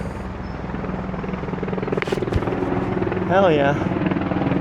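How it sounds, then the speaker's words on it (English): A helicopter drones steadily overhead with a continuous low rotor thrum throughout, while someone speaks briefly over it. "There's that helicopter again."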